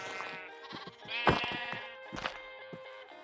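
Sheep bleats in Minecraft Hardcore: several short harmonic baas from a rare brown baby sheep, bunched close together, near and clear with a faint buzzing game backdrop and no talking.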